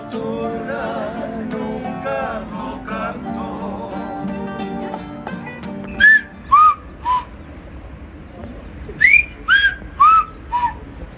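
A tour guide whistling in a whistled language on a hillside overlooking the Atlantic, a series of short, loud, rising and falling whistled notes in distinct bursts following a stretch of background sound and voices.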